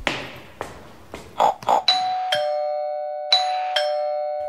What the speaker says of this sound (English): It is the doorbell.